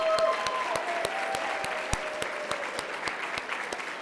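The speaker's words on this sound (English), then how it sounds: "Round of applause for everybody who gave." A fundraiser audience breaks into sustained applause, a thick broad crowd clatter with one nearby pair of hands beating out sharp, evenly spaced claps above the rest, no speech over it.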